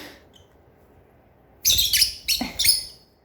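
Pet lovebird parrots give a few sharp, loud squawking chirps in quick bursts near the listener after a quiet stretch.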